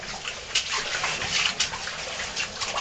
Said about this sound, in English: Waterfall and a potential push.